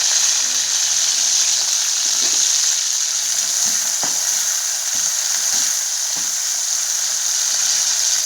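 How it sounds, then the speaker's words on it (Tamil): Small shallots sauté in oil with a loud, dense, unbroken hiss of frying and a few faint stirring knocks, with no talking over it. "வெங்காயம் நல்லா பொன்னிறமாக வதங்கணும்."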